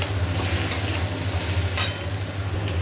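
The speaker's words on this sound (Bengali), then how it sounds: "এই যে এখানে টমেটো দিয়ে দিয়েছি, আর একটু ভাজা হোক" Tomatoes and potatoes fry in a pan while being stirred, a steady close sizzle with occasional scraping, heard alone.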